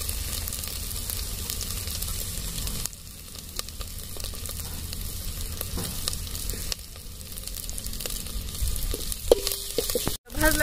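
Masala sizzles steadily in oil in a pan while cooking an egg curry, a continuous close crackling fry with a few faint stirring scrapes and a brief dip near the end.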